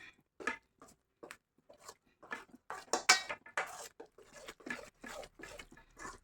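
Mango pickle mixed with oil in a bowl gives soft, intermittent scrapes and clinks of a spoon, quiet and close, with short gaps of silence between strokes.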